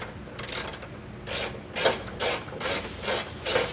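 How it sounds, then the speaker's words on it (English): A socket ratchet tightens a bumper beam bolt on a 2023 Chevrolet Silverado, giving several short, rasping clicking strokes in an even rhythm, close up and fairly loud. "while you're under here with your sockets, you might as well reinstall this bumper beam bolt"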